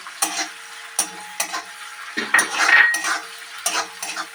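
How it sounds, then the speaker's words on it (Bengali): A spoon scrapes and clinks against a pan while onion fries for a Bengali fish curry, irregular stirring strokes close up over a soft sizzle, with no speech. "দিয়ে পেঁয়াজটা আমি কিছুক্ষণ ফ্রাই করবো, রেড করে ফ্রাই হোক"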